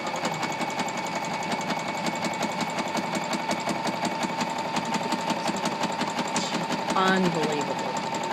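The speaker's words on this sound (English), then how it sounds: "what I'll do is just move the fabric as I sew" A Singer sewing machine zigzag stitches as fabric is moved freely under the needle, a continuous close, even mechanical hum with fast regular ticking and a short spoken remark over it.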